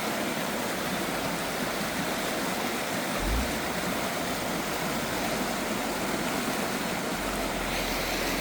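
Steady broadband rush of river water flowing low over its bed during an outdoor nature walk, continuous and fairly near, with a brief low thump partway through and no talking.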